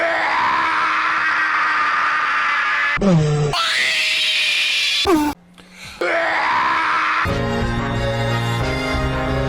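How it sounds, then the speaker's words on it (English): A man's prolonged scream of fear from an anime boxing fight, loud and wailing in several long sustained bursts broken by brief cuts, ending under swelling music. "let's hear the scream one more time"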